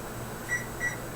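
Two short, faint electronic beeps from a kitchen timer over a steady low hum of room noise, sounded during a pork chop and chicken breast barbecue cook.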